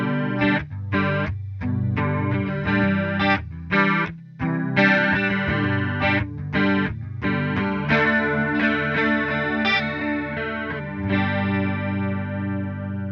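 An electric guitar runs through a Coppersound Polaris chorus pedal, with tone at 40, rate at 50 and focus at 60. Chords are strummed in short bursts and let ring with a shimmering, wavering sustain.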